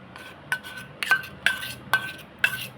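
A utensil scrapes and clinks against a pot while mango pulp is stirred into melted jaggery, with five sharp metallic knocks at roughly half-second intervals over a soft background of moving food.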